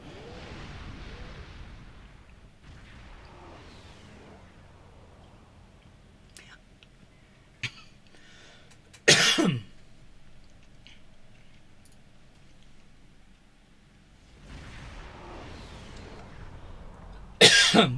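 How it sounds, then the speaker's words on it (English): Two sharp, isolated coughs several seconds apart, over a low, murmuring background. "I've got a bit of a cough"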